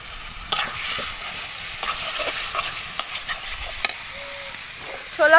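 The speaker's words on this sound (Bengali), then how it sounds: "ভালোভাবে আমি সব কিছু মশলার সাথে কষিয়ে নেব" Grated potato, four slit green chillies and boiled chickpeas being stirred and sautéed in masala in a pan: steady frying sizzle with repeated scraping strokes of a spatula, close and alone.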